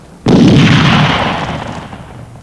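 Heavy gunfire bursts out abruptly in a 1937 Soviet film about Baltic sailors at a fort, a loud booming volley that rolls on and slowly fades, with no voices over it.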